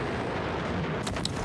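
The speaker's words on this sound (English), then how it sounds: "Just using his cannon at the moment." Jet cannon fire in a Battlefield video game match, a loud sustained rumbling roar ending with a couple of sharp bursts.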